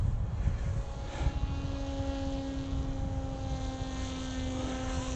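An electric motor drives an 11-foot Sweepwings Onslaught FPV wing in flight. Its steady buzzing drone has a clear tone that drops in pitch as the throttle is lowered, running continuously under rushing wind noise.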